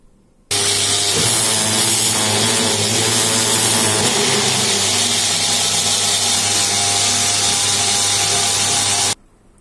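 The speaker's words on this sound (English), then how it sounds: "Now we are going to blender it." A blender blends watermelon and grape juice with ice cubes, a loud, steady motorized whir running for several seconds, starting and stopping abruptly, with a low hum beneath a harsh grinding roar.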